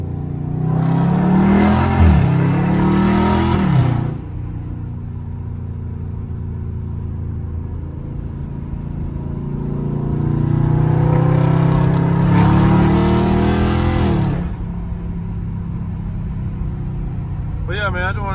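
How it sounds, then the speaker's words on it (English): An SRT car in track mode revving and downshifting, two loud bursts of engine roar with rising and falling pitch separated by a lower idle rumble, close by, with a voice talking over it. "Downshifting everywhere I go."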